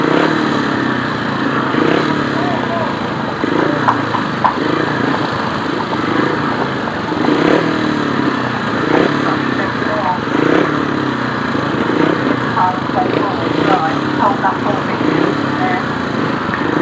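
500cc sidecar motorcycles race on a grasstrack at the British Grasstrack Championships, their engines a continuous droning roar from several machines at middle distance, with a commentator talking over the noise throughout.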